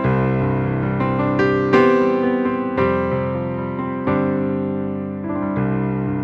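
Rosewood Grand virtual piano heard through its hammers microphone position, a slow run of chords and single notes that sound bright and close, each ringing out loudly before the next one is struck.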